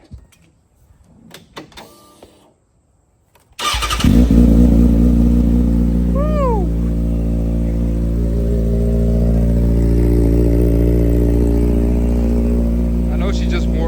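Motorcycle cold start: a brief starter crank, then the engine catches at about four seconds and settles into a loud, steady idle close by, with a short whine near six seconds.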